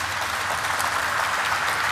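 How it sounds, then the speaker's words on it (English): A steady, moderately loud round of applause at a company stock exchange listing ceremony for SBFC Finance, continuous crowd clapping without pause. "a big round of applause for all the employees"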